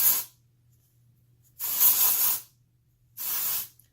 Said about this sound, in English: you're going to see a little bit of white residue when you first spray. Spritz it in there.